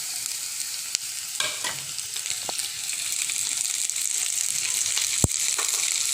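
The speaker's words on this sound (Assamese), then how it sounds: "ইয়াত আমি এতিয়া তৰা গজালিখিনি দি দিম।" Tara shoots sizzle steadily as they fry in a pan, with a few sharp scrapes and knocks of a spoon stirring them, all close by and with no talk.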